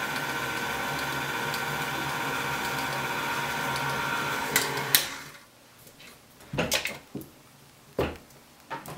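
An electric mixer whirs steadily through a yeast and flour mixture for gluten free bread, a close mechanical buzz with a hum that cuts off partway, leaving clanks and clatters of utensils against the bowl.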